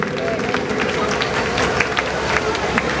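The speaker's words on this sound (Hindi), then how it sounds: "जोरदार ताली मेरे साईं के लिए।" Audience at a Shri Om Sai Mandal gathering applauding loudly for Sai Baba, a sustained, dense burst of clapping with crowd murmur underneath.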